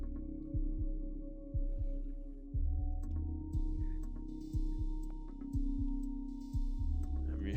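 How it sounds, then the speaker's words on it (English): A slow, regular heartbeat from the video game OFF thumps about once per second, deep and muffled, over a low sustained drone with faint higher tones entering partway through. "I'm hearing a heartbeat."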